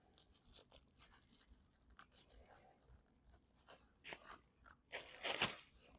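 Protective wrapping is peeled and torn off the front fender of an AIPAS C2 Express during unboxing and assembly, giving irregular crinkly rips and crunches that build to a louder tearing burst near the end, close to the microphone with no talking.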